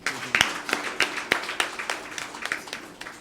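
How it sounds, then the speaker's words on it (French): Rhythmic applause rings out at a diploma ceremony for graduating students, with a small crowd clapping in an even, steady beat that is sharp and fairly close, lasting throughout. "Applaudissez encore pour lui."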